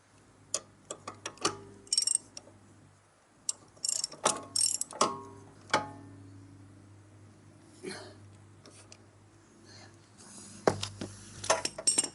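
A spanner tightens a nut while a side stand is fitted to a motorcycle, giving sparse, close metallic clicks, ratcheting ticks and clanks in irregular bursts against a quiet background.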